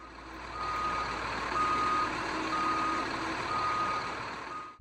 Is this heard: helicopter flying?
no